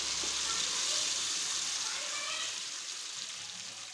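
Chana and moong dal hit a hot pan for a mixed-dal tarka, giving a steady, close frying sizzle that hisses broadly throughout and eases slightly toward the end.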